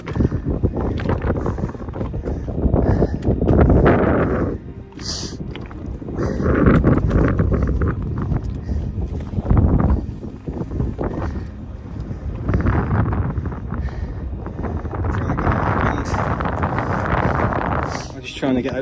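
Strong gusts buffet the microphone outdoors at a wild camp above Levers Water, a heavy rumbling roar that surges and eases in waves, with brief gaps and a voice speaking under it.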